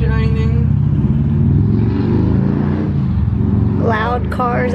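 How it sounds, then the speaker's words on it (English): Loud cars passing outside an open window on a sunny Saturday morning, heard as a sustained roaring engine rumble that swells and fades, with a person talking near the end. "Loud cars outside."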